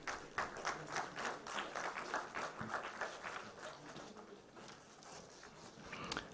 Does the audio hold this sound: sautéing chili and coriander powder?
no